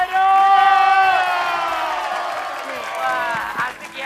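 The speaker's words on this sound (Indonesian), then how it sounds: "Sekali lagi kasih tepuk tangan buat Jero." A loud crowd cheers and whoops, with a dense roar of voices and shouting sustained throughout, fading slightly toward the end.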